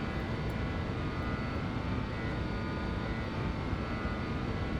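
A BAe146 jet taking off in the X-Plane 12 flight simulator, a loud, steady engine roar that holds without a break, with no voices.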